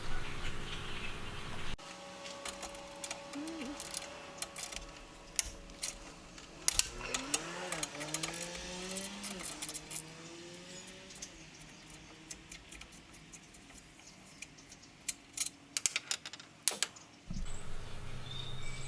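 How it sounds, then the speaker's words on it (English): A 1/4 inch ratchet with a small extension and 10mm socket works on bolts during A/C high pressure hose replacement on a 1998 Honda Civic hatchback, giving quick runs of soft clicking ticks with scattered metallic knocks, close and fairly quiet, with no talk. "we're going to be using our 1/4 inch ratchet, a small extension, and our 10mm socket just for those bolts."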